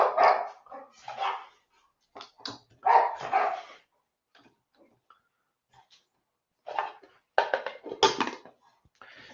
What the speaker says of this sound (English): The dogs are having a crazy half hour.